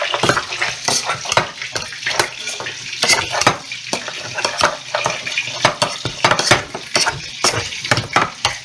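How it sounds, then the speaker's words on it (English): Butter and breadcrumbs fry in a pan with a soft, steady sizzle, overlaid by frequent clinks and scrapes of utensils against cookware in a busy home kitchen. "And my butter and breadcrumbs are cooking as well."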